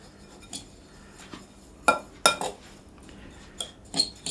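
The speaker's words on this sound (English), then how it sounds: "And I'm just going to mix them together with a fork." A fork clinks repeatedly against a bowl while brown sugar and caster sugar are mixed together, making a handful of sharp, close taps spaced irregularly between quiet pauses.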